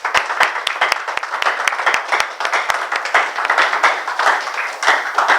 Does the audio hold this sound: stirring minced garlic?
no